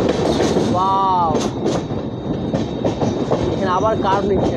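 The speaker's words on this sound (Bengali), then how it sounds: "এখানে আবার কার্ভ নিচ্ছে ট্রেনটা" The Jammu Tawi–Sealdah Humsafar Express rolls through a curve with steady wheel rumble and clatter, punctuated by sharp, ringing wheel squeals and bursts of metallic screech.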